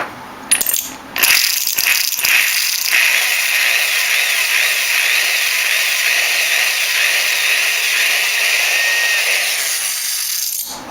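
A few clunks and taps, then a power drill whines steadily into wood for several seconds, drilling a shallow pilot hole, before winding down.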